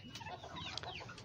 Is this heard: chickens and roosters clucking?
yes